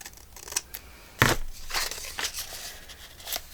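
Scissors trimming paper in an altered book journal, with several short close snips and a louder crisp cut in the middle, along with light paper rustling.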